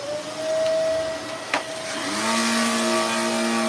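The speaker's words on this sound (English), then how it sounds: "I think it's time for a new vacuum." A loud, faulty vacuum cleaner drones nearby with a whining tone that shifts in pitch, and a brief knock comes partway through.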